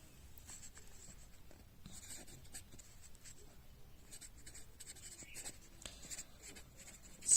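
Pen writing out chemistry definitions on a board or page during a lesson, soft scratchy strokes in irregular bursts, near and fairly quiet, with a louder tap at the end.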